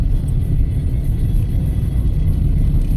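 Road traffic in a congested Philippine street with trucks nearby, a steady low rumble of idling and slowly moving engines, continuous and fairly loud with no distinct passes.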